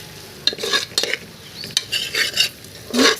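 A spoon stirs masalas and turmeric into rajma khichdi in a pressure cooker, making repeated scraping clatters against the metal over a light sizzle, close and fairly loud.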